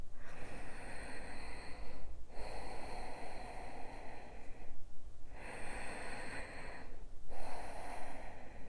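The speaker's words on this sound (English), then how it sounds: "Inhale, arms above the head. Deep breaths." Deep, loud breathing from a yoga session, heard close up as long hissing inhales and exhales. Each breath lasts about two to three seconds, and the breaths follow one another with short pauses and no talking.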